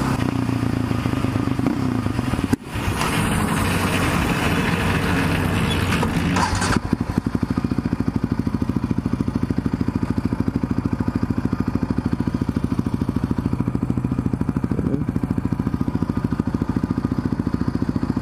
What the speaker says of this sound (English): My four-wheeler just, like, backfired and shut off.